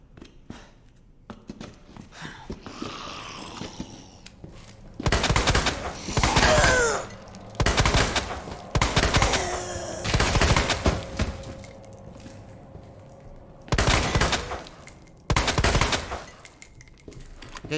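Shotgun blasts at a zombie in the Resident Evil 2 Remake video game: several loud, booming shots spaced a few seconds apart, with clatter and reloading sounds between them.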